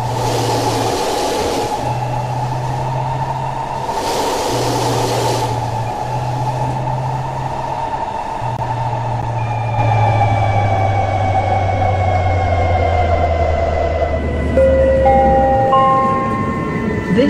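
A C200B train running in the openBVE simulator on the North West Line: a steady loud rumble with low motor hum that rises in pitch, joined near the end by climbing electric whine tones as it accelerates.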